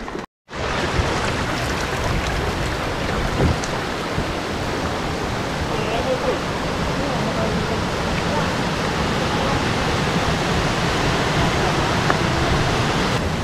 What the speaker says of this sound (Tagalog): maririnig mo na yung mismong tunog ng falls doon sa di kalayuan